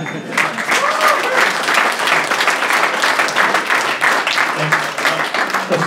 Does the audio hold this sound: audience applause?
yes